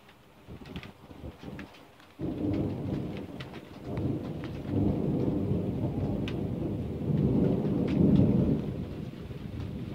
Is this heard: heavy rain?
yes